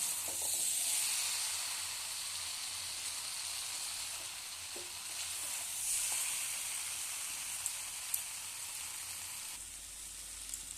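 Meat and pumpkin are stirred continuously in a hot pan, giving a steady, moderately loud sizzle with occasional light clicks from the stirring utensil. No one speaks.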